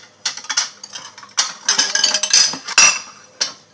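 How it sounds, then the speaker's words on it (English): Cutlery clinks and scrapes against a bowl as one banana and two eggs are mixed together for an easy breakfast, a close run of irregular taps and rattles with no talking. "I have one banana and I have two eggs, so I just mix it together"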